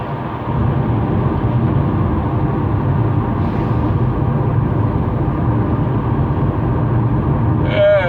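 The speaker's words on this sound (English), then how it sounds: "a lot of dump trucks out here today" Dump trucks at a work site, heard as a continuous, fairly loud low engine rumble that holds steady, with a brief squeal near the end.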